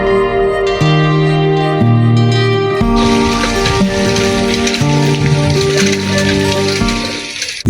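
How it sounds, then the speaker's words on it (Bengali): Steady morning rain falls over a lychee orchard in Dinajpur, soaking the trees: a continuous dense patter that thickens after the first few seconds, with sustained tonal sounds running underneath and no talking. "আজকে বৃষ্টি পড়ছে,"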